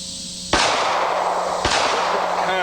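Two sharp, loud Glock pistol shots about a second apart, each a sudden broadband crack followed by a sustained echoing decay.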